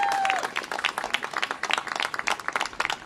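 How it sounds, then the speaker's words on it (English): A crowd claps for young people at a mayoral event in DC, a dense patter of hands rising and falling over about three seconds, with a brief tone at the start. "Give them a big round of applause."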